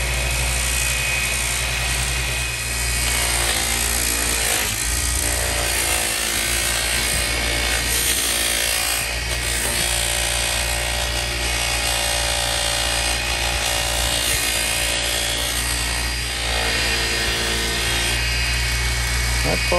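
A power polisher works grime off a metal surface, a steady loud whirring drone with a constant low hum that runs unbroken throughout, with slight dips in pitch as pressure shifts.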